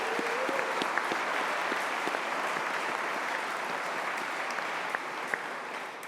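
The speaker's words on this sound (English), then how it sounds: "let's have a big round of applause for our academics as well," Sustained applause from a large audience at a university graduation ceremony in Greenwich, steady and dense throughout with a few louder individual claps near the end.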